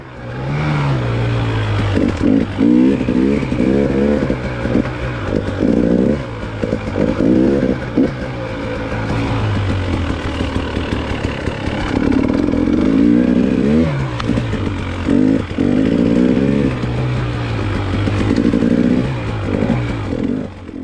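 Several KTM 300 two-stroke dirt bikes ride a trail, engines loud and close, revving up and down continuously with rattling and clatter throughout.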